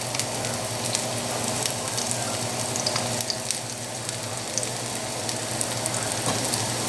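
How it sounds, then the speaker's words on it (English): Garlic frying in extra virgin olive oil in a hot pan, a dense, even sizzle with scattered crackles that holds steady throughout, with no voices. "Starting with a little bit of extra virgin olive oil, just a touch. Nice hot pan. Garlic goes in first."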